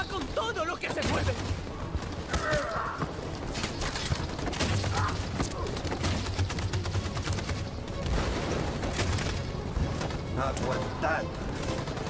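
Machine gun fire in Detroit: Become Human, rapid overlapping bursts and shattering impacts sustained throughout, loud and close, with shouted voices in Spanish over the gunfire.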